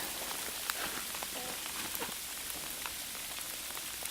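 Steady patter of hail or icy rain striking a surface, dense and even with a few sharper ticks, continuing throughout with no voices.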